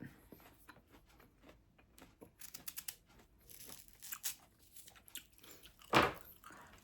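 Someone bites into and chews a crunchy fresh persimmon up close, giving soft irregular crunching and tearing sounds with one louder bite near the end.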